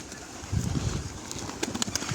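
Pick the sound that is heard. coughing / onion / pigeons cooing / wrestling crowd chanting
pigeons cooing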